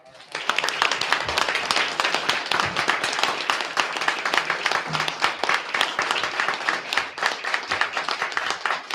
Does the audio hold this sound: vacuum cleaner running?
no